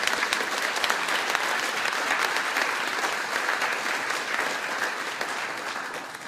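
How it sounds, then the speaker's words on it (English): An outdoor crowd applauds at a hospital patient tower groundbreaking ceremony, with dense, sustained clapping at close range that holds steady and then eases slightly toward the end. "Give them a round of applause,"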